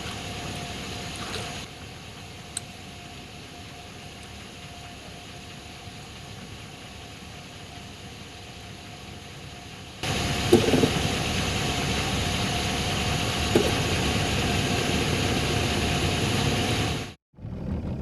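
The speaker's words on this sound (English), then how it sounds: "The motor's running." Boat outboard motor running on a lake, a steady droning hum that grows louder and rougher partway through before cutting out abruptly near the end, with no talk.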